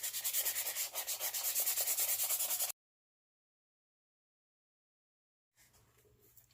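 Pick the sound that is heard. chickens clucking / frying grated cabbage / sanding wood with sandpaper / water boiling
sanding wood with sandpaper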